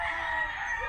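A rooster crows in the countryside of northern Cebu in the Philippines, one sustained, strained call heard fairly close and loud.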